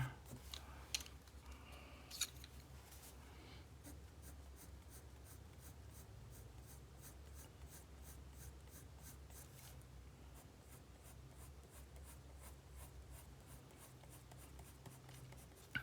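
Polychromos colored pencils scratch across paper, building up layers on a drawing of blue hair in fast, rhythmic back-and-forth strokes, close and steady, over a faint low hum.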